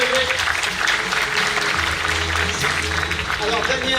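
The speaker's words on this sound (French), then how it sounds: "je vous propose d'applaudir, d'accueillir notre intervenant par quelques applaudissements, Daniel Sauvaget." An audience claps steadily to welcome a speaker at a conference, dense sustained applause filling the room throughout, with a few voices faintly beneath it.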